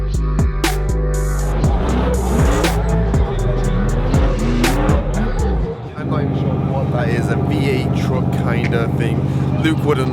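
A professional drift car driven for Monster Energy squeals its tires and skids with a roaring, revving engine, first in repeated slides and then in one long sustained drift. The sound is loud and close, with voices talking over it.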